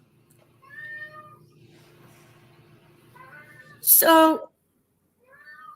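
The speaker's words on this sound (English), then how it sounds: "Can you hear my cat?" A pet cat lets out one loud, close meow with a sharp rise, after a stretch of quiet room noise and soft talk, and a person speaks briefly again afterward.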